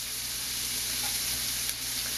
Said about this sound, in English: Next thing we're going to add is the carrots and the garlic, and quickly let them fry up a bit.